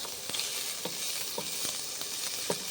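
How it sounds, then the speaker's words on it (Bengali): Paneer frying in butter in a pan gives a steady, close sizzle, broken by a few soft scraping stirs spaced about half a second apart. No one talks. "বাটারগুলো একটু ভেজে নিচ্ছি, পনিরগুলোকে আমি একটু ভেজে নিচ্ছি।"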